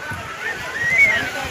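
Sea waves wash and slosh against the steps of Gomti Ghat in Dwarka, a steady nearby roar of surf with soft background voices mixed in.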